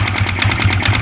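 A motorcycle engine running after losing its oil, idling up close with a loud, rapid mechanical tapping and knocking rhythm over a steady low drone.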